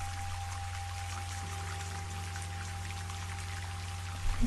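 Steady rain falls in an even, continuous hiss that holds a constant level throughout, with a low hum beneath and no voices.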